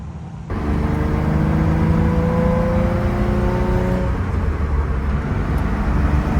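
Nissan 350Z driving down a remote road, its engine starting abruptly then holding a loud, steady drone with slowly shifting pitch, heard from close by.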